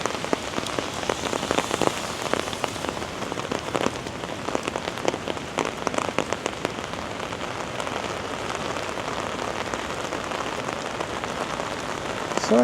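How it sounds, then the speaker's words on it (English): Heavy rain pouring down in downtown Toronto, a dense, continuous hiss of drops drumming on surfaces, loud and steady throughout with no voices. "It's still raining quite hard though right now"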